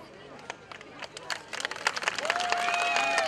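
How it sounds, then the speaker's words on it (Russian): Audience applause for young children from kindergartens and schools performing dances and songs at a neighbourhood anniversary celebration in Yurievets: scattered claps grow denser and louder, then music rises beneath the clapping near the end. "Дорогие друзья, ваши громкие аплодисменты"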